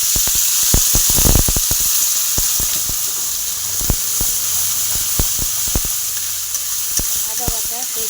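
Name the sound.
two chillies and white cumin sizzling in hot oil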